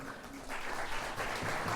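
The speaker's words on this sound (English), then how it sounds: "you can still clap for them." Audience clapping at a business event where several companies are being recognised, a steady broadband patter of hands filling the room that swells louder about halfway through and holds to the end.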